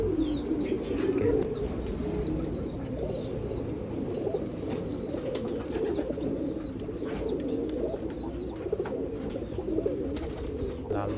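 Several pigeons of an old domestic flying line coo steadily in a low, continuous murmur, with faint chirps and higher calls scattered above in a busy loft.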